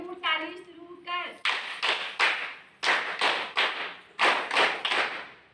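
A group of women clap together in a steady rhythmic beat on a TV quiz show stage, loud, close sharp claps in short bursts after a brief spoken call.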